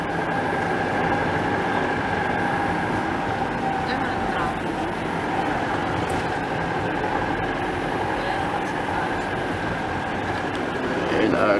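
Light rail train passing along an LRT extension on the way toward a coastal area, heard as a steady, continuous rumble of rail cars from start to finish, with voices in the background.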